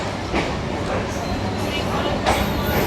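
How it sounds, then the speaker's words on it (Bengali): A local train heads from Lakshmikantapur toward Namkhana, its steady rumble and rattle heard from on board, with a voice talking over it. "এই বন্ধুরা ট্রেনটা এখন ছাড়লো লক্ষ্মীকান্তপুর থেকে নামখানার দিকে।"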